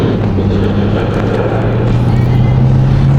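A Mercedes C63 AMG W204 pulls away gently in comfort mode, its low engine and exhaust drone steady and heard from inside the cabin, with a tone rising slightly toward the end.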